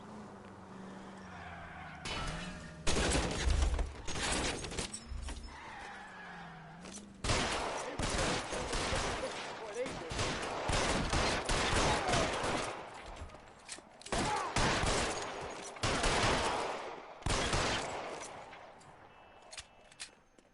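Rapid bursts of gunfire from an L.A. Noire shootout, with repeated sharp volleys and fusillades crackling over a roaring car engine and skidding tyres during a vehicle chase, loud and close.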